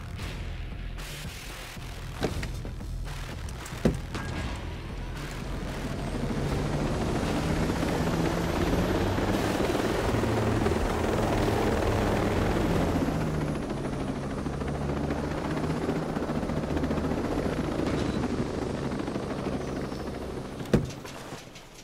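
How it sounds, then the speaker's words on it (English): A helicopter in the video game Ghost Recon Breakpoint, its rotor hum swelling from quiet to a steady mid-level drone, with a few sharp mechanical clicks near the start and end. "Apparently, I have to take a helicopter."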